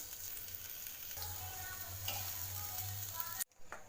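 Ginger pieces fry in a pan for fried rice, with a steady, close sizzle and occasional stirring scrapes, ending in a sudden brief drop before the sizzle resumes.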